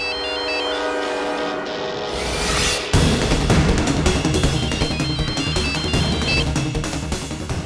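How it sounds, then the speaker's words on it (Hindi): A phone ringtone rings unanswered in a Hindi television drama, a loud melodic electronic tune looping continuously, with a brighter, busier section kicking in partway through. "प्लीज फोन उठा लीजिए।"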